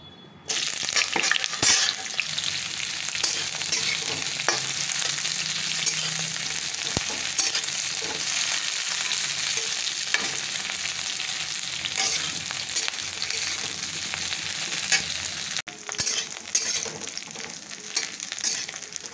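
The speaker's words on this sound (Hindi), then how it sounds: "तेल गर्म हो चुका है तो इसमें डाल दूंगी मैं कटहल को कटहल को अच्छी तरह से फ्राई कर लूँगी" Jackfruit pieces frying in hot oil while being stirred: a loud, continuous close sizzle with scraping stir sounds, briefly dipping near the end, with no talking.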